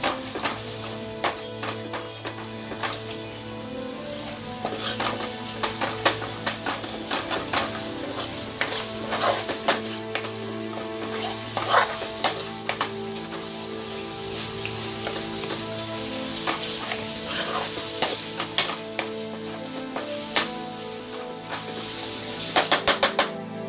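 Ginger garlic paste sizzles in a hot pan for Punjabi chole masala, with a steady close frying hiss and frequent clicks and scrapes of a spoon stirring against the pan throughout.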